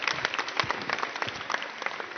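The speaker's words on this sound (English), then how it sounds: "let's give Luke a big round of applause, and everyone a big round of applause." A live seminar audience applauds Luke with brisk, uneven clapping that holds at moderate loudness for about two seconds. No one speaks over it.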